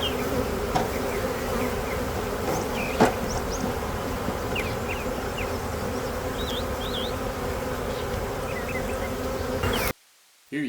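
A swarm of honey bees buzzes around a box holding their queen, a dense, continuous hum close by with faint chirping birds above it, cut by a brief silence just before the end.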